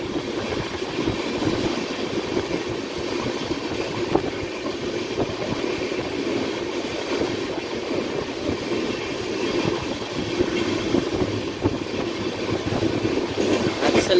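A train arrives at Charlapalli railway station in Hyderabad, a continuous, even rumble and rattle of wheels on rails heard from on board, steady and moderately loud throughout.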